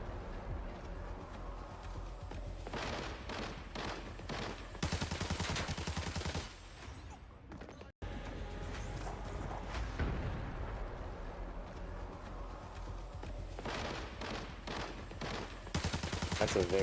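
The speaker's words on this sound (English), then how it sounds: "Very standard nade fight right here." Grenade and gunfire fight in the video game Arena Breakout, with repeated bursts of gunshots and booming blasts in clustered volleys separated by brief lulls, moderately loud, with a voice speaking intermittently over the action.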